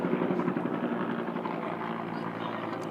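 A helicopter flies overhead, a low, continuous rotor drone with faint rhythmic chop, heard at moderate distance and fairly quiet throughout.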